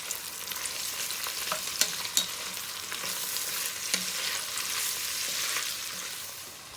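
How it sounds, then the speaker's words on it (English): Carrots and cabbage sizzle and fry in a pan for a French garbure while being stirred, a steady loud hiss broken by occasional scraping knocks of the utensil, with no talking. "Once you've cooked your carrots for 2 or 3 minutes, add your cabbage. Then cook for about 2 minutes."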